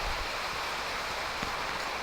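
Steady rain hisses near a swollen river at an ashram guesthouse in Rishikesh, forming a dense, even wash of water noise with no voices.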